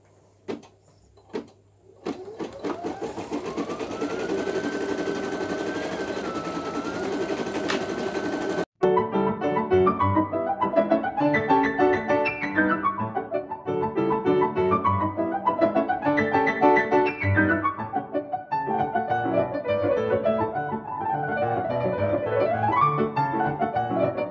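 A Brother Innovis 800E embroidery machine starts up with a rising whine, then settles into a rapid, steady mechanical stitching chatter with rhythmic sweeps as the needle works, loud and close, with no talking.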